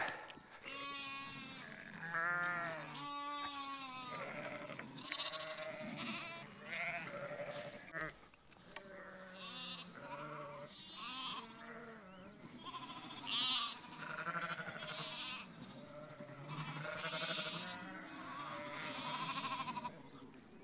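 Sheep bleating repeatedly at a farm in Scotland, a mix of overlapping calls from a flock, fairly close and continuous as the animals are moved out across a road.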